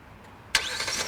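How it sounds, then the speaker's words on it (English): A Hyundai Palisade SUV engine starts remotely, with a sharp crank and catch after a quiet lull, then settles into a steady, fairly loud idle, heard alone without talking. "I drive a 2019 Hyundai Palisade, and this also comes with remote start."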